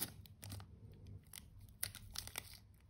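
Tape being wrapped tightly around a small homemade 6V 200uF electrolytic capacitor: soft, close crinkling and crackling in quick irregular bursts over a quiet background.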